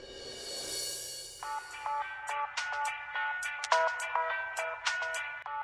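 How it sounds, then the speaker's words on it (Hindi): Phone ringtone going off in the morning, a repeating electronic melody of short tonal bursts, fairly close and alone with no talk over it. "सुबह सुबह किसका फोन है?"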